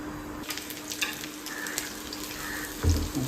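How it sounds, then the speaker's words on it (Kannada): Mustard seeds tempering in hot oil in a pan sizzle steadily and up close, with scattered pops and a stirring clatter near the end, and no voices. "ಒಗ್ಗರಣೆಗೆ ಹಾಕ್ತಾ ಇದ್ದೀನಿ."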